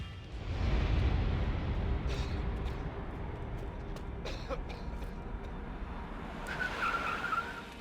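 A car in the action game Max Payne 3 skids with a sustained, fairly loud tire screech over a roaring engine and rumble, with a brief higher squeal near the end and no talking.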